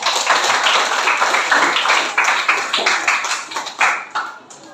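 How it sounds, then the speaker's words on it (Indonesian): Students in a classroom coding and AI lesson clap for a classmate, a lively burst of individual claps from a small group that thins out and fades over several seconds. "tepuk tangan untuk kawannya"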